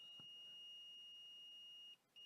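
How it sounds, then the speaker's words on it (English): A multimeter set to continuity testing beeps across a fuse on a PS4 Slim board, making a single steady high beep that lasts about two seconds, clear and alone, followed by a brief restart of the tone. "the beep means we do have connection across that fuse"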